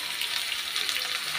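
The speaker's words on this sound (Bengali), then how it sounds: "পেঁয়াজ দিয়ে দিয়েছি, অর্ধেক ভাজা হয়ে গেছে, কিন্তু এখন দিয়ে দেবো ভাজা মাংস আর তেজপাতা" Onion fries in a pan, sizzling as a close, soft, steady hiss with faint crackles throughout.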